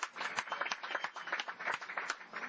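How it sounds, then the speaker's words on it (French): Spectators at an Olympique Lyonnais football ground keep up a continuous wash of applause, many hands clapping together in a busy, unbroken crackle that lasts a couple of seconds. "Applaudissements pour François Clair qui n'est pas parmi nous"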